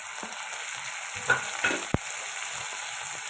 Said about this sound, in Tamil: இப்போ இதை நம்ம வதக்கி வதக்கிட்டுக்கலாம்